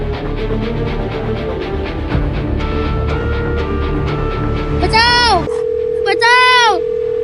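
A phone call's electronic tone sounds twice near the end, short warbling beeps following a stretch of people talking over a steady background hum.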